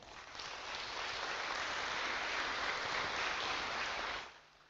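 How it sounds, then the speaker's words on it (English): An audience at an Atomy business presentation breaks into a dense, continuous wash of clapping that holds evenly for about four seconds and then drops away abruptly. "Let's clap for that."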